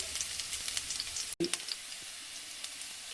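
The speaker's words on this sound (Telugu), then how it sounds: "మనము దంచి పెట్టుకున్న ఎల్లిపాయలను వేయాలి తర్వాత పల్లీలను వేయాలి" Crushed garlic and peanuts frying in hot oil, a steady close sizzle and hiss with a brief drop and a stir partway through.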